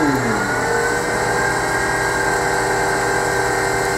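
A wood lathe runs at about 2,500 RPM while turning a Christmas ornament, giving a loud, steady machine whine with a constant motor hum throughout and no speech.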